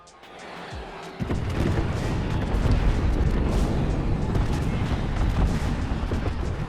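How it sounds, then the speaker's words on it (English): Gibraltar's concentrated mortar airstrike in Apex Legends, shells falling on a smoke-marked position: after a brief quiet, a loud, rumbling barrage of overlapping explosions starts abruptly and keeps pounding without a break. "call in a concentrated mortar strike on a position you mark with smoke"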